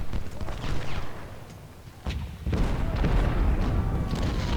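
Rolling musket and cannon fire from a Civil War battle in the Ultimate General strategy game, dense overlapping volleys and booms that drop briefly before swelling louder, with no talking.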